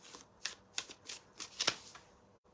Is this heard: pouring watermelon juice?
no